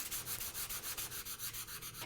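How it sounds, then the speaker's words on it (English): Sandpaper rubbed back and forth over a paper image glued into a journal, giving a steady, rhythmic scratchy rasp of repeated close strokes with no voices. "So I'm taking some sandpaper and I can sand away."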